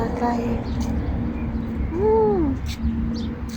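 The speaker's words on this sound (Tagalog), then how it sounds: "Dami niyang ibon, promise." Pigeons coo outdoors in a park, a soft rising-falling call standing out over a low background hum, with other faint bird sounds around it.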